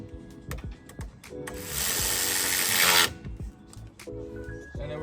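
A ratchet driver tightening T20 screws on the steering column of a Jeep LJ during a turn signal switch replacement, close clicking turns followed by a steady whirring burst of a couple of seconds, then more clicks.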